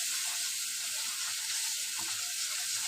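Spices frying in a pan for Bengali fish curry give a steady, bright, even sizzle, close and continuous throughout with no talk.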